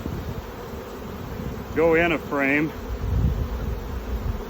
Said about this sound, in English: So I'm going to shake the bees off of that.